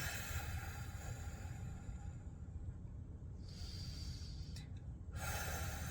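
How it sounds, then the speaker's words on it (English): One long, slow deep breath is drawn in and let out close to the microphone, a soft airy hiss that stays quiet throughout. "Deep breath."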